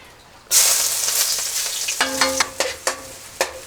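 Garlic dropped into hot oil in a pan bursts into a loud hissing sizzle and bubbling, which carries on steadily, followed by several sharp scraping strokes of a spatula over the frying.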